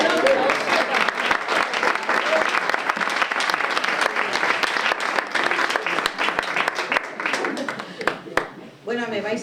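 At a children's literature gathering, an audience breaks into strong, sustained applause with many distinct sharp claps, fading out near the end as a voice begins speaking.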